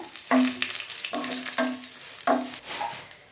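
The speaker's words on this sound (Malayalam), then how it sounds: "വെളുത്തുള്ളി നല്ല രീതിയിൽ മൂത്ത് വന്നിട്ടുണ്ട്" Garlic and dried red chillies crackle and sizzle in hot oil, with repeated stirring strokes and spatula scrapes in an uneven rhythm, close and moderately loud, no talk.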